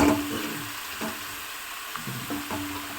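Chicken pieces hitting a hot pan, giving a steady sizzle and frying hiss with a few soft clatters as they settle. The sound is close and alone, with no voices.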